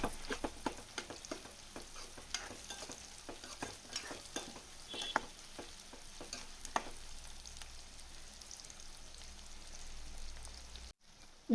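Steady sizzling of onions and white powder sautéing in a pan, with scattered pops and crackles, punctuated by the scrape of a spoon stirring, close and moderately quiet.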